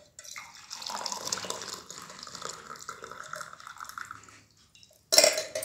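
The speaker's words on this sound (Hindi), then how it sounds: "अब इसको छान लेते हैं।" A boiled giloy and papaya leaf decoction is poured through a strainer, giving a steady splashing liquid stream for about four seconds, then a brief sharp metallic clink of kitchen utensils.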